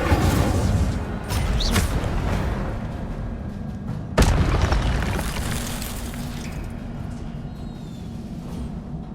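An Incendio fire spell cast in Hogwarts Legacy, with a sharp fiery burst near the middle over a loud rumbling game background that slowly fades afterward.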